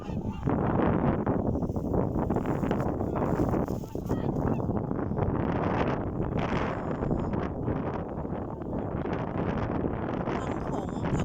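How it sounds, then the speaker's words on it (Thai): Swans and black geese honk near a frozen sea in bitter cold, around minus 15 degrees, their calls partly buried under loud, buffeting wind noise and some talk. "ทั้งหงทั้งห่านตัวดำๆนะคะ"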